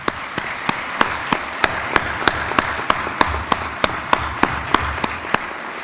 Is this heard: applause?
yes